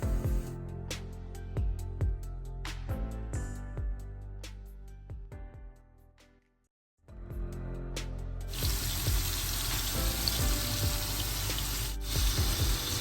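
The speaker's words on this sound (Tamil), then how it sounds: "இந்த இறாலை பொரிச்சு எடுக்கிறதுக்கு கொஞ்சம் எண்ணெய் சேர்ப்பேன்." Prawns coated with salt, turmeric and chili powder fry in hot oil, a steady loud hiss that starts after a brief hush and follows earlier kitchen clatter.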